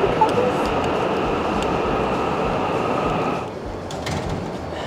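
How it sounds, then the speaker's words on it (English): A Japanese bullet train rushes past, a loud sustained roar and rumble that drops off abruptly partway through as the train clears. "here comes the bullet train again"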